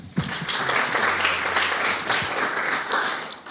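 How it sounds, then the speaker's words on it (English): Audience applause for a lecturer at a university ethnography and anthropology department, a dense, steady wash of clapping from a full room lasting the whole stretch, fairly loud and close with a few sharper individual claps. "Let's also give him an applause."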